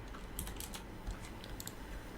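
Code is typed on a computer keyboard, quick clusters of soft key clicks heard faintly and close, with no talk.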